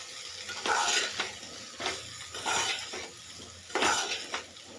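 Spiced bitter gourd curry with salt and chili powder being stirred in a pan, a rhythmic series of scraping, clinking strokes about every half second to second over a soft, steady sizzle.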